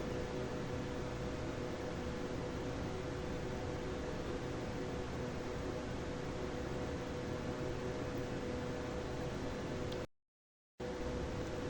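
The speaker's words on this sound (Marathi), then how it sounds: "हे पकोडे असे लालसर होईपर्यंत आपल्याला गरम तेलामध्ये फ्राय करून घ्यायचे आहेत" Pakoras fry in hot oil with a steady, even sizzling hiss that runs throughout and cuts out briefly near the end.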